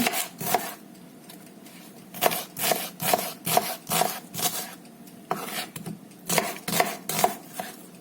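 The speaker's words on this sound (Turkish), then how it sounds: "Kuru soğanım var. Onları da doğruyorum." Knife chopping dry onions on a board, a steady run of sharp, close taps in uneven bursts, with no voices.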